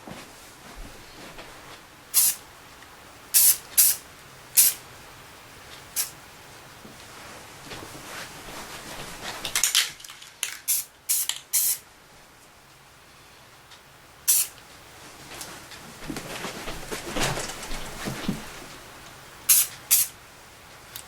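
A spray can lays a light first coat of paint on old Tootsietoys die-cast toys, heard as short sharp hissing bursts in irregular groups, some in quick succession, close by over a quiet background without talk.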